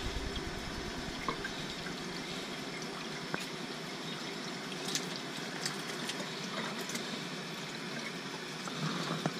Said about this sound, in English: And then I'll rinse.